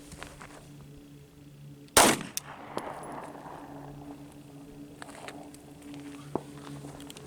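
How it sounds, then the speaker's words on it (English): A single loud gunshot of Winchester 115 full metal jacket fired at a fiberglass armor panel, a sharp close crack followed by a brief decaying echo over quiet outdoor background. "Taking one good shot."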